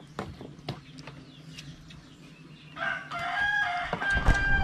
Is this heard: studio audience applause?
no